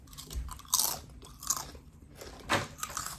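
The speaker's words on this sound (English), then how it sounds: "They're crunching like they're kettle cook." Kettle-cooked jalapeño chips crunched between the teeth, several loud, close crisp bites and chewing bursts spaced irregularly with quieter chewing between, no talking.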